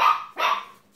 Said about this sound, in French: C'est notre petit Oliver qui aboie.